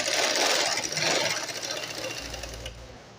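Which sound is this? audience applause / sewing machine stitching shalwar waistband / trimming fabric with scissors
sewing machine stitching shalwar waistband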